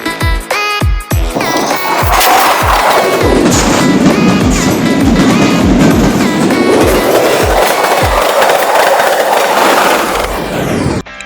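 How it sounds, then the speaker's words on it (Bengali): A train passes close by near the Rooppur nuclear power plant, its wheels beating a loud, steady clickety-clack rhythm over the rails for about eleven seconds before easing off at the end. "আমরা এখন রূপপুর পারমাণবিক বিদ্যুৎ কেন্দ্রের একটি ট্রেন ভিউ নিয়ে নিলাম"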